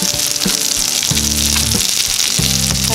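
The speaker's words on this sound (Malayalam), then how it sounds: "ഇത് മാറ്റുന്നതിന് മുന്നേ ആയിട്ട് രണ്ട് കറിവേപ്പില ഇതിലിട്ടാം" Fish frying in hot oil with curry leaves tossed in, a loud, dense, continuous sizzle with bursts of crackling and spitting throughout, heard alone with no talking.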